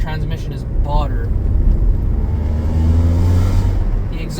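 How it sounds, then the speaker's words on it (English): Exhaust drone of a rare Mazda wagon while driving, heard from inside as a low rumbling engine note under road noise, with someone talking over it. "The exhaust sounds absolutely horrible, by the way."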